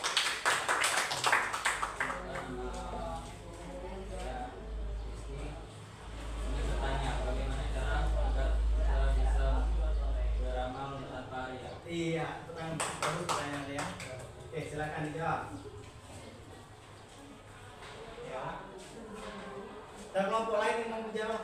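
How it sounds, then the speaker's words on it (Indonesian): Classroom applause, a burst of claps at the start and further rounds of clapping later, mixed with student voices and talk throughout. "Ya, kita kasih aplaus dulu."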